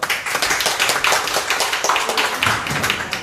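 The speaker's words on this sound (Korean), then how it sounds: "박수 좀 해주십시오" An audience claps at a symposium on electoral reform held at the National Assembly Library, a dense burst of hand claps that carries on steadily with no talking.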